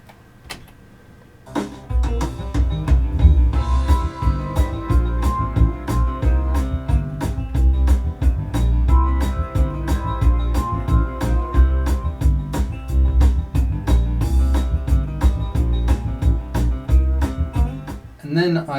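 A full band backing track, with drums and organ, plays loud and steady for about sixteen seconds after a quiet start, then cuts off abruptly near the end.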